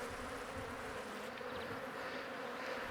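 Honey bees buzz around an open hive frame, a constant low droning hum of many insects, steady and close without any voices.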